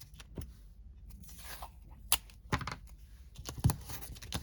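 Tape pulled and torn while making a papercraft Christmas card: quiet crackly peeling with several sharp, brief tearing snaps, close and fairly faint, with no talking.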